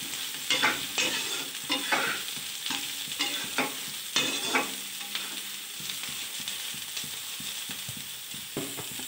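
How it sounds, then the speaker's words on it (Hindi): Soybean chunks stir-fried in a pan at home, with frequent scraping and clattering spatula strokes over a continuous sizzle, the stirs coming in quick bursts during the first half and then a calmer steady frying hiss, close up with no voices. "तो इसमें हम सोयाबीन डाल रहे अपना तो इसको भी इसके साथ भूनते हैं"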